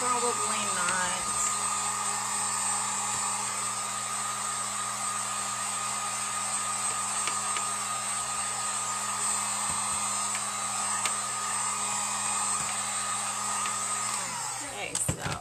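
A Harbor Freight heat gun blows steadily while drying acrylic paint on a wooden owl cutout, a loud constant whirring hiss with a high whine that cuts off near the end.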